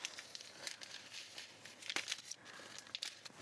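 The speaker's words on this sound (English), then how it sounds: "Take the tape off." Tape peeling away from partly melted perler beads gives a soft crinkling, tearing crackle, close and fairly quiet, with a few sharper bursts and no talking.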